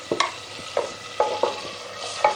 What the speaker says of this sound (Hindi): ये देखिए 4-5 मिनट से मैं मसाला भून रही हूँ